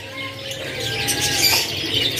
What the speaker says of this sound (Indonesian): untuk penampakan burung kenari seri AFS yang sudah gacorannya ya